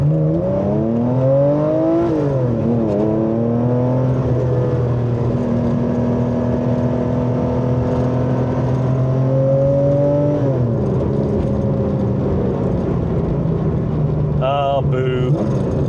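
A Singer-restored classic Porsche 911 pulls hard under full throttle: a loud, close engine note climbs in pitch, dips at a shift, then holds a strong steady drone before easing off, with a brief voice near the end.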